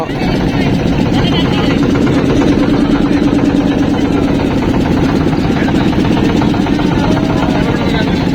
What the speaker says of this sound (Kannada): ಬೋಟ್ ಸ್ಟಾರ್ಟ್ ಆಗೈತೆ ನೀರೊಳಗಡೆ ಹೋಗ್ತಾ ಇದೀವಿ